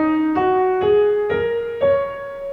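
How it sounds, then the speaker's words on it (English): Four single piano notes played in steady succession, each a little higher than the last, clear and close with sustained ringing tones and no talking. "And a set of black notes, which sound like this."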